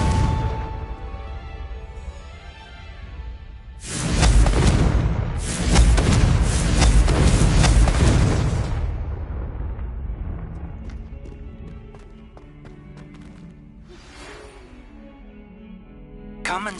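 A Confringo fire spell explodes in Hogwarts Legacy, a burst of loud booming blasts that lasts several seconds and then fades into quieter game ambience. No one speaks.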